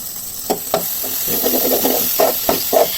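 Baby corn sautéing in a pan of cooked-down tomato masala, a steady sizzle and hiss with intermittent knocks and stirring clatters of a spoon against the pan, close up.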